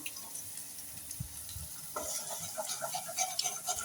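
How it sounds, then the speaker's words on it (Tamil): Egg frying in a pan, a soft steady sizzle that swells after a faint stir or scrape, with a few light crackles, quiet and close with no talking. "எக்கை வந்து அதில் ஆட் பண்ணுறோம்."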